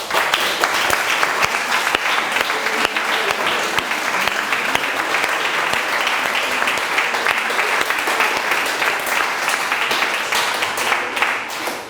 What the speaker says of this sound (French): je propose que le public leur réserve un tonnerre d'applaudissements.